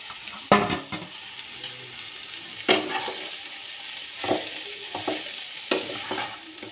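Banana stem sizzles steadily in a hot pan, with sharp scraping stirs breaking in every second or so, close and loud, no voices.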